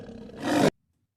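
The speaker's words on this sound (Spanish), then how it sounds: "Escuche cómo hace el león." A lion lets out one short roar that swells loudly and then cuts off abruptly, alone and close with no talk.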